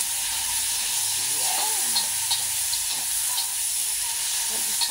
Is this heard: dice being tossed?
no